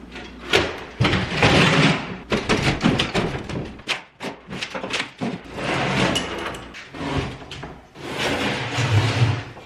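A drawer full of screws is handled during an apartment renovation, giving repeated loose metallic rattles and clattering knocks in uneven bursts, fairly close, with no talk.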